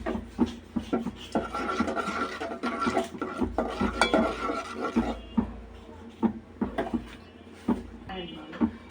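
Spices for a tomato chutney being stirred and sautéed in a pan with added water, giving scraping and clinking of a spoon against metal and a soft sizzle, with scattered louder knocks throughout.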